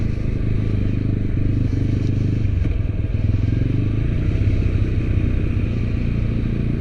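A TVS Apache RTR 200 motorcycle runs steadily at speed on the road, with a constant low engine drone and some wind noise, close and unbroken throughout.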